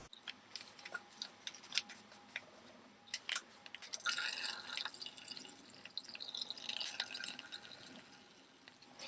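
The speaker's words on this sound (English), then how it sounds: "So I have the first solution in here, and let's pour this in." Liquid rubber face mask solution is poured into a bowl: soft, close trickling and drippy splatters with small clicks, faint and intermittent, swelling into a steadier pour midway before thinning out.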